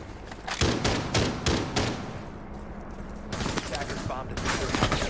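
Rapid bursts of automatic gunfire from a video game esports match, a Rainbow Six-style grand final round, crackling in dense volleys with short pauses between them, loud and close, with a caster's voice partly beneath it.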